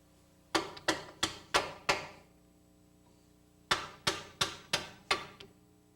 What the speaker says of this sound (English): you're going to have to take a hammer or a bar and striking the end of the nut